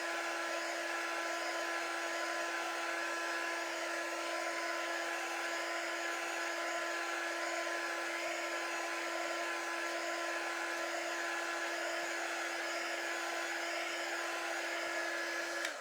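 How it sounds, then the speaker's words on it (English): A heat gun blows steadily while drying a chalk-painted craft project, a loud continuous whooshing whine with a fixed tone that runs unbroken for the whole stretch, with no one speaking. "I'll lay the heat gun over there."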